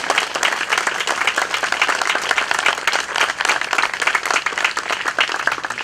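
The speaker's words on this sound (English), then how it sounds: "And I wish you would all have a round of applause for the staff of the Centerville Library." An audience applauds library staff at the Centerville Library, a dense and loud burst of clapping from a crowd that holds steady for several seconds.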